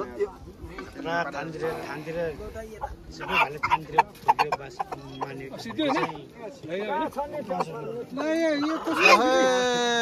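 Chickens cluck and squawk repeatedly while people talk over them at a village worship ritual, with a rooster's strained call rising near the end.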